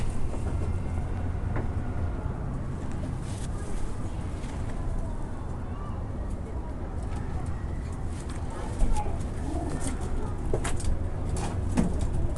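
Racing pigeons coo softly in a loft amid constant low rumbling background noise, with occasional wing flutters and faint scattered calls throughout, and someone speaking Arabic at times.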